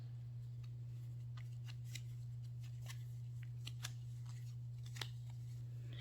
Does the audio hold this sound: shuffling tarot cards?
yes